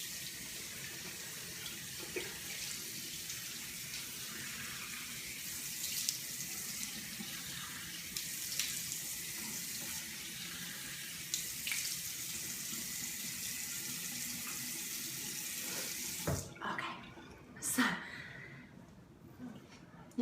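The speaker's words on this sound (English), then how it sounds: "So I'm gonna go ahead and rinse it off now." Tap water runs steadily into a bathroom sink while a face wash is rinsed off, a continuous close splashing that breaks into a few irregular splashes and stops near the end.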